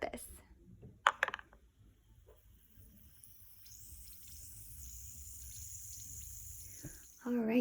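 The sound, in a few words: manicure soak ball dropped into water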